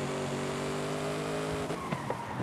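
A Lego car in the Forza Horizon 5 racing game power-slides with a sustained engine whine and tire squeal, which then breaks up into scuffing skid noise near the end, heard alone.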